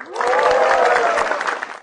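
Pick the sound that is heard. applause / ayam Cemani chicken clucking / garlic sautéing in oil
applause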